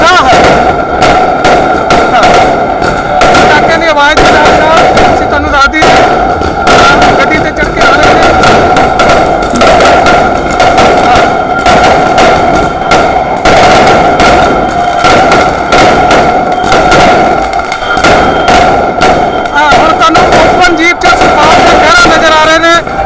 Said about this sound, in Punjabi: ਪਟਾਕੇ ਵੀ ਚੱਲ ਰਹੇ ਨੇ ਲੋਕਾਂ 'ਚ ਬਹੁਤ